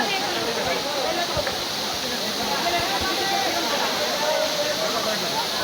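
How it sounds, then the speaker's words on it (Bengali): Steady, dense rushing of water from a waterfall at Jaflong, running at reduced flow, fills the whole stretch at an even level, close and continuous, with no talk heard over it. "আমরা আছি জাফলংয়ের সেই ঝর্ণা।"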